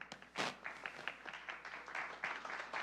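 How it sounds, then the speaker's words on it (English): Faint applause from an audience at an international review meeting, a scattered patter of hands clapping with a few sharper claps, heard from a distance with no speech. "Ladies and gentlemen, our applause."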